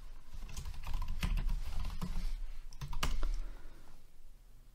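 Quick bursts of keystrokes on a computer keyboard while entering login details to access a server, with close, clattering taps and short pauses in between.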